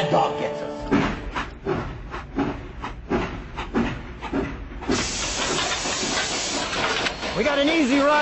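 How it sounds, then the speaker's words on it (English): Steam hiss from a train in the game Mad Dog McCree II: The Lost Gold, with rhythmic chuffing bursts, then a steady loud hiss while a voice talks over it. "We best get this on the train before Mad Dog gets us."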